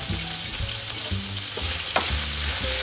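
Sliced ginger frying in sesame oil in a pan, a loud continuous sizzle with crackles, alongside a low humming tone that shifts pitch, with no talking.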